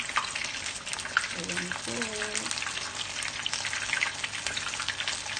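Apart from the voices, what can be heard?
tempura sea bass and prawn frying in oil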